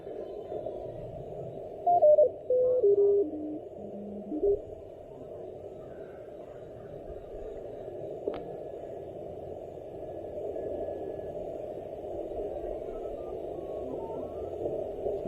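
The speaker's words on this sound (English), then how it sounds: "any noise you're hearing right there, the CW, is actually off frequency" Off-frequency CW Morse code tones come through an Elecraft KX1 radio during a POTA field operation: a short burst of stepped, beeping tones early on, then a steady hiss of receiver noise.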